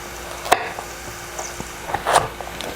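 Chopped onion sautéing in a pan for a kare pan filling, giving a soft, quiet sizzle broken by a few sharp clicks and one short crackling burst.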